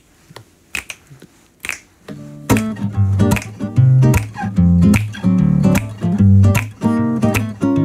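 Sharp finger snaps crack out alone in a live radio studio, then keep the beat as a song with piano and guitar starts up, the snaps punching through loudly and close.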